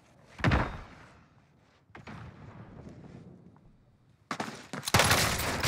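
Shotgun blasts in Call of Duty Warzone sound as sharp, punchy booms, one loud shot early, then quieter thuds, then a heavy burst of two close blasts near the end over low background game noise.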